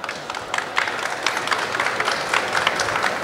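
Audience applause at a panel discussion for aspiring food entrepreneurs, steady dense clapping from a crowd filling the whole moment, moderately loud and even, with no talk over it.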